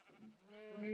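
Sheep bleating in the Minecraft video game, a single drawn-out wavering bleat that swells louder toward the end, with no talk over it.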